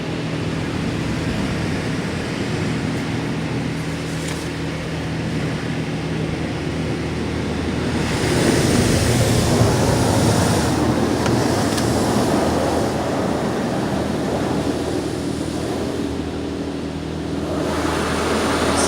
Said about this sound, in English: After that will be high pressure wash, or laser wash, the old-fashioned way.